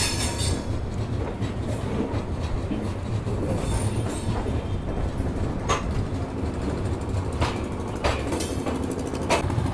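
The Secunderabad Rajdhani Express runs on the rails in steady, loud continuous rumble from inside the train, with rhythmic clickety-clack and occasional sharp wheel clicks throughout.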